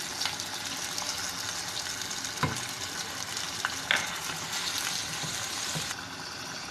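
Steady sizzling of mutton frying in a hot pan with garlic-ginger paste, with occasional stirring clatters and soft pops throughout.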